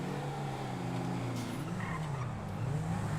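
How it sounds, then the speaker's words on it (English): Cars in GTA V roleplay rev and skid with tire squeals, their engines droning loudly and steadily throughout. "Why are they using their cars as a battering ram?"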